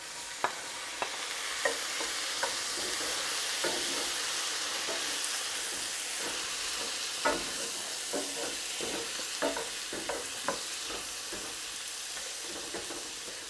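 Tomato goes into a pan of crispy, well-sautéed onions, setting off a continuous sizzle and frying hiss, with scattered scraping stirs and clicks of a utensil against the pan. No one speaks.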